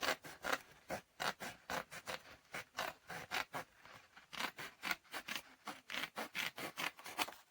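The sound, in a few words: cutting cardstock paper scraps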